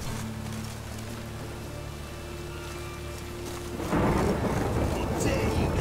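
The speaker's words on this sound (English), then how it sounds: "It's raining buckets." Heavy rain and thunder in The Witcher 3: a low, steady rumble with faint rain gives way to a sudden, loud wash of downpour near the end.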